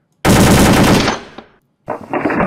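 Rapid gunfire from the shooting range in the video game World of Guns: a loud burst of close shots for about a second, a brief pause, then a second volley resumes.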